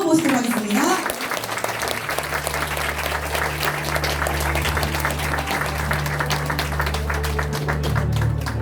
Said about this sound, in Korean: 우리 김진은 사장님 큰 박수로 모시도록 하겠습니다